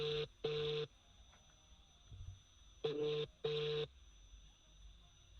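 Phone call tones sound in two pairs of short, steady electronic beeps, separated by a quiet gap, over a faint line hiss with no talking.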